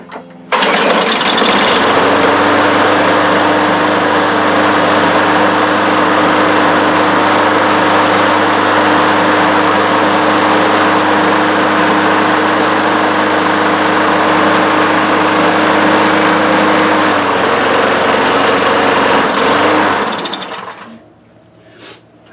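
A John Deere JS60 push lawn mower that sat outside over winter starts after a pull and runs at a loud, steady drone for about twenty seconds before cutting off and winding down.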